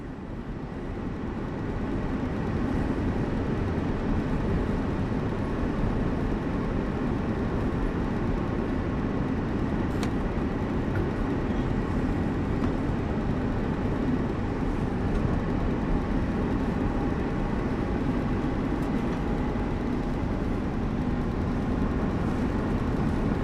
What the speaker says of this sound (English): They are known internally as the ES64U2 and are famous for their musical sounding notes as they start moving